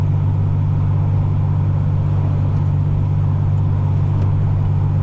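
Log trucks driving past on a road, a loud, steady low engine drone with a strong hum that holds constant the whole time, with no talk over it.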